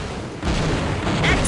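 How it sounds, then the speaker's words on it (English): In a Half-Life-style shooter game, a tank blows up an enemy general's cannon with a loud, dense explosion rumble that fills the short moment, near and sustained. "So I gotta use the tank to blow up his kata cannon."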